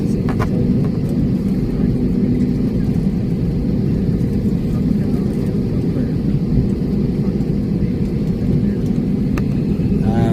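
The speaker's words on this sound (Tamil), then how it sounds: "அவர் டேக் ஆஃப் ஆனதுக்கப்புறம் தான் நாங்கள் டேக் ஆஃப் ஆகணும்" An airplane taking off makes a loud, steady low roar and rumble that stays constant throughout, with faint voices underneath.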